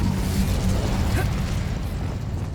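Hogwarts Legacy gameplay: a fiery Incendio spell bursts out with a loud whooshing blast and rumbling pop over a dense, steady wash of game sound effects.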